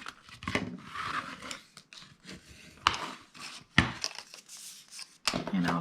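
Paper gift bag toppers being folded in half by hand, giving a run of crisp creases, rustles and light taps with short pauses between strokes, close and fairly quiet, with no talking.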